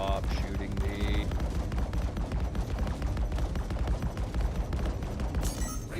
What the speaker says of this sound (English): that's friendly PDS and enemy PDS shooting me.